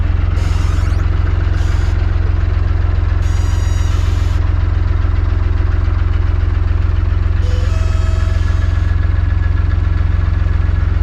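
A narrowboat's loud, steady engine rumble runs throughout, with a few short, high-pitched squeaks from its tiller breaking in near the start and again later.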